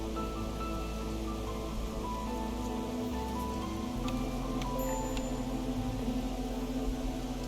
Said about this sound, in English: And that gets us to the drizzle.